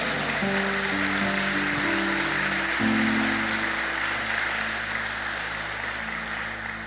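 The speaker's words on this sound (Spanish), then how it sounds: "Denle un aplauso al Señor por eso." A church congregation claps together for a steady stretch of continuous, even applause at a worship service, with low sustained tones running underneath.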